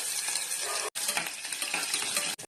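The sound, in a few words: garlic sizzling in hot oil with fenugreek and mustard seeds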